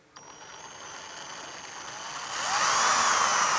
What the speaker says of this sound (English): We're going to use the hole saw now to drill out the holes for the manifold.